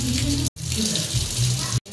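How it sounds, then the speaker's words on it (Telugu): Water runs steadily from a tap into a vessel in a home kitchen, a close, continuous rushing splash that breaks off briefly twice. "ఇదిగో దీంట్లో వాటర్ పెడుతున్నాం చూడండి"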